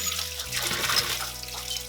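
Water poured over potatoes and leek beside a campfire, a short soft trickle and splash, fairly faint and alone.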